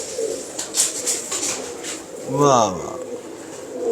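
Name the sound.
teddy pigeons cooing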